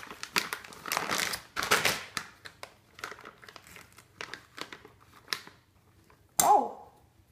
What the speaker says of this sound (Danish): Og når den er lagt ind, så trykker man det ligesom ud i posen, og så åbner man posen op igen.